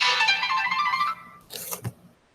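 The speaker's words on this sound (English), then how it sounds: "I gotta turn my notifications down." A short run of bright chiming phone notification alerts rings out first, followed by a couple of softer clicks and blips as the sound fades away.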